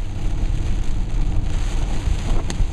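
Steady heavy rain pours down during a storm, a dense, even hiss that fills the whole stretch with no voices.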